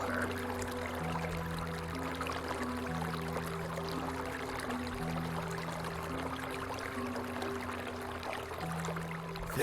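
Flowing water running steadily in the video game Caligo, a gentle pouring trickle beneath quiet sustained musical tones, unbroken for the whole stretch.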